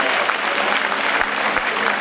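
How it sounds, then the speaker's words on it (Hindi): Loud, dense applause from a large crowd at a fair gathering in honour of a district official, a continuous roar of clapping throughout the short stretch. "एक बार जोरदार तालियां उनके लिए।"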